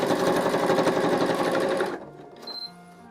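A sewing machine stitches two 5 by 7 fabric rectangles for a fabric wallet, running in a steady, close, continuous whir for about two seconds before stopping, followed by quieter handling noises.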